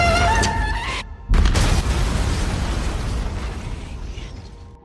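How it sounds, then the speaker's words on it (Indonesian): A big explosion from a trap in an action film bursts out after a short musical lead-in, a loud boom that rolls on and slowly fades over several seconds. "jebakan yang seketika membuat ledakan besar"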